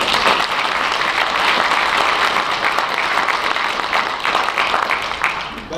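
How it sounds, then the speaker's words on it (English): A graduation ceremony crowd applauds families in a dense, steady round of clapping that fills the whole stretch without a break, loud and even before tapering slightly at the end. "round of applause for our family"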